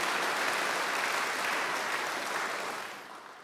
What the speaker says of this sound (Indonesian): Siapa yang percaya, tepuk tangan untuk Tuhan Yesus